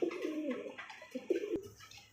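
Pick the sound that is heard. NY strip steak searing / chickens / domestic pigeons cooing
domestic pigeons cooing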